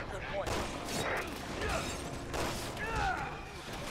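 Sniper rifle gunfire in the Resident Evil 6 underwater-base stage, sharp cracks landing amid a busy game mix with scattered impacts and mechanical clatter, moderately loud throughout.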